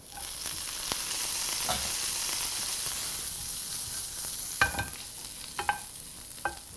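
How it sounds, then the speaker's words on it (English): Green beans dropped into a pan of browning garlic sizzle in a steady, close hiss, with a few sharp pops and stirring clicks near the end. "Just before our garlic starts to brown, we're gonna add our green beans"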